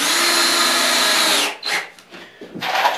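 A power drill whines steadily for over a second while driving a screw into a backer panel board, then cuts out, followed by short bursts and scraping handling noises.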